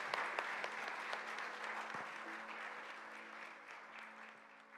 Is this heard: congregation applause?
yes